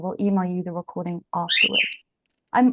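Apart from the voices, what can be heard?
pet parrot chirping in the background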